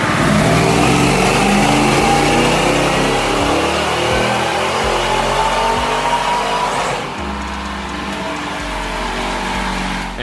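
A car with a crate motor running hard on a dyno, a loud sustained engine roar with rising pitch that drops back slightly around midway and keeps droning, close and without voices.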